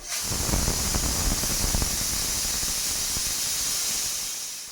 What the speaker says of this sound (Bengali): প্রেশার কুকারে চারটে সিটি দিয়ে তারপর আমি এটা নামিয়ে ফেলবো